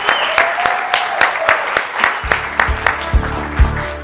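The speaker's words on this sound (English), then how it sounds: "And I think we all should give Joe one more round of applause for being extraordinary." A crowd claps steadily and enthusiastically, with deep music thumping in beneath the applause partway through.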